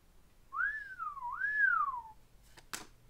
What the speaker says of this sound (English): We'll probably cut the whistles.